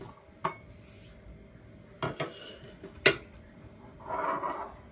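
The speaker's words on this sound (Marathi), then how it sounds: "आता जो मी चिरलेला कांदा आहे तो एका बाउल मध्ये काढून घेते।" Chopped onion is tipped into a bowl in a home kitchen, making a few sharp clinks of utensil on dish, a couple of soft knocks and a brief rustling scrape near the end, close by and fairly quiet.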